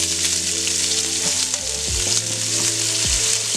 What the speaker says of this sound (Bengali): হালকা ব্রাউন কালার করে ভেজে নেব